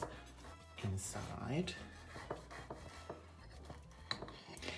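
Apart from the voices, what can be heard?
knife cutting a slice of lemon custard cake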